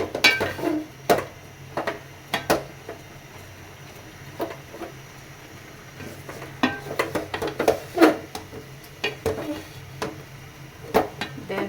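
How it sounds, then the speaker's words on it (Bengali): Bottle gourd greens steaming in a pan, with irregular stirring clacks and utensil knocks against the pan over a faint low hiss. "লাউ শাকটা একটু স্টিম দিয়ে নিচ্ছি।"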